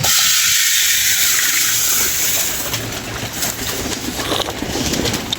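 Pigeons feeding on scattered grain coo softly beneath a loud, constant hiss, their low calls surfacing now and then.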